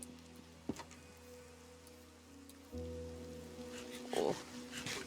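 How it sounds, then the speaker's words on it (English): Steady Minecraft rain patters softly and evenly throughout, with faint game tones humming beneath and a brief clatter near the end. "The Minecraft rain is so lovely."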